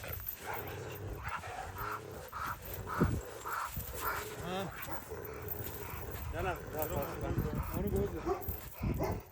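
Several Kangal dogs bark and yip close by, some whimpering in between, while people talk over them almost continuously.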